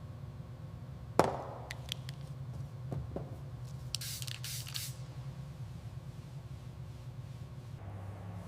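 Spray bottle misting onto a car panel during polishing, with a sharp spritz followed by a few lighter sprays and a short hissing burst, close up over steady low background hum.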